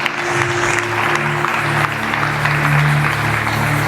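Church congregation applauding and cheering together, a dense, steady wash of clapping and voices that stays loud and close throughout, with a sustained musical tone running underneath.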